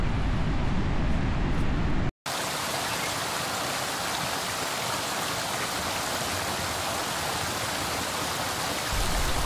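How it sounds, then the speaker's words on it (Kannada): Continuous rushing roar of Magod Falls in forest near Yellapur, Karnataka, steady and fairly close, broken only by a brief silent dropout early on. "ಈ ಫಾರೆಸ್ಟ್ ಮಿಡಲ್ ಈ ನೀರು ಬೀಳೋದು ನೋಡಿದ್ರೆ ಸ್ವರ್ಗ ಸ್ವರ್ಗ ಅಂತಂತ ಹೇಳ್ಬೋದು"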